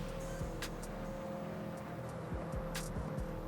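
A car in the No Hesi driving game cruises in 6th gear at about three-quarter throttle, its engine giving a steady, even drone with faint passing whooshes, alone and without talking.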